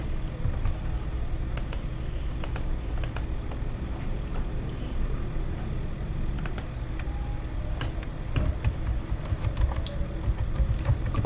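Computer keyboard typing while a map layout is made in ArcGIS, quiet irregular bursts of key clicks over a faint steady background hum, with no talking.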